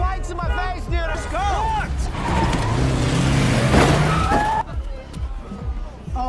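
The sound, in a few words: luxury Jeep bumping into a car in a film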